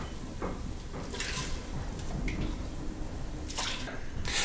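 Beef stock pours into a stew pot with a soft, continuous liquid splashing and trickling, fairly faint and close, with a few brighter splashes.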